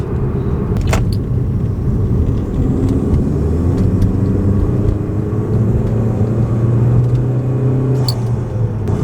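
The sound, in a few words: car engine revving with cold air intake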